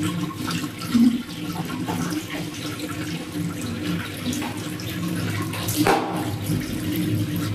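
Water from a tap runs and splashes steadily while a face is being washed at a sink, a continuous close rush with a few louder splashes.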